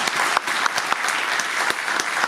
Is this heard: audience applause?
yes